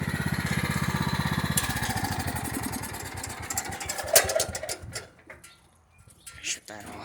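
A Craftsman lawn tractor engine idles with a steady rapid chug close by, then drops away as it is shut off, leaving brief quiet with faint background sounds.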